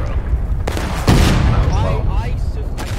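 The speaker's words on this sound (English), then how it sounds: "I think you got shot by one of our cannons." Cannon fire booms in a Civil War video game battle, a sharp blast landing about a second in and followed by rumbling gunfire over background game noise and faint voices.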